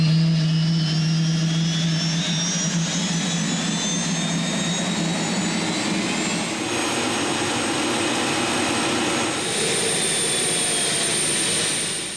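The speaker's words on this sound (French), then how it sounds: "celui de la Homette TX de Xavier Micheron, un prototype animé d'un moteur d'hélicoptère, un engin pour le moins original, à mi-chemin entre l'automobile et l'aéronautique." The Hommet TX prototype race car, driven by a helicopter turbine engine, gives a loud, sustained jet-like whine at Spa Classic 2011, with sliding high tones and a deep rumble underneath that hold steady to the end.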